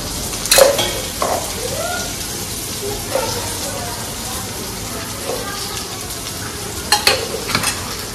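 Chillies are stirred and fried in a hot tempering with turmeric and sugar, giving a steady sizzle with occasional scraping stirs, while someone talks over the cooking.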